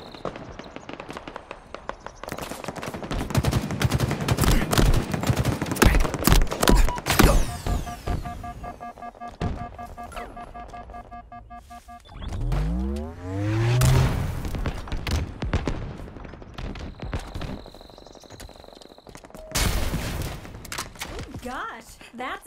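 Halo Infinite Big Team capture-the-flag match with rapid bursts of weapon gunfire, explosions and thuds, loud and dense at first, then sparser shots, with players talking over the action.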